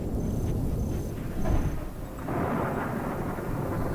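Thunder from a dry lightning storm over Brazil's Cerrado grasslands rolls as a low, steady distant rumble, with a slight swell partway through and no rain audible.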